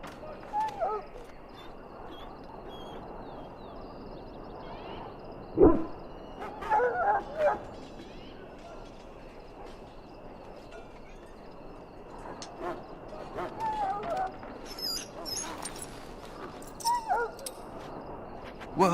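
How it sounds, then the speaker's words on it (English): A dog in the Dragon Age Origins video game gives scattered yips, short barks and whimpers over a steady game ambience, with a few louder bursts spread across the stretch. "Now I can treat the dog properly, poor fella."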